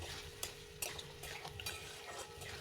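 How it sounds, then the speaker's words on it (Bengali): Young jackfruit mixed with ground coriander and other spices is stirred and lightly fried in a pan for a vegetarian dish, giving a close, steady sizzle broken by a few sharp scrapes of the spoon against the pan, with no talking. "সামান্য পরিমাণে একটু"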